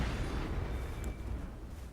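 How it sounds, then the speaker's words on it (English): An explosive barrel blows up in Elden Ring, a loud, broad booming burst that decays into a rumbling tail over about two seconds, with no speech. "that explosive barrel right there."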